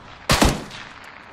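A short, loud burst of full-auto gunfire in a first-person shooter video game, two or three rapid cracks lasting about a quarter second, followed by a faint tail.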